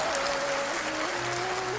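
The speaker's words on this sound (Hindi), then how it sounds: "मैं चाहूंगा आप अपने लिए एक बार जबरदस्त तालियां बजा रहे हैं" Audience applause in a lecture hall during a motivational talk, a steady wash of many hands clapping at moderate volume, sustained without pause through the short stretch, with a faint tonal hum underneath.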